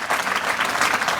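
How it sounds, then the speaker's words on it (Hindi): An audience claps for award recipients at a memorial award ceremony, a dense, steady round of applause filling the whole moment. "दोस्तों जम करके तालियां आप इन लोगों के लिए बजाएं"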